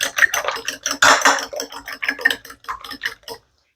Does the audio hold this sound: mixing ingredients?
yes